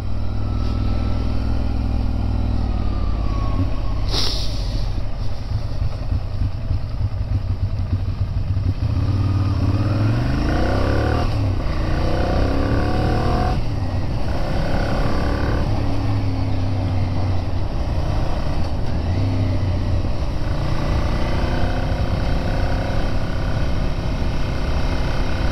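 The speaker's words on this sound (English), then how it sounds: "It's very quiet for a V-twin." Stock-exhaust V-twin motorcycle ridden around the Isle of Man TT course: a continuous, fairly subdued engine drone with shifting pitch as it accelerates and changes gear, close by and with no voices.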